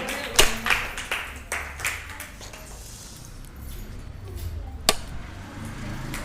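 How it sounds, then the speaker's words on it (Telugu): A small group claps in short scattered bursts to cheer on a young performer in a children's talent show, the claps sparse and uneven rather than sustained applause, with talk mixed in. "క్లాప్స్"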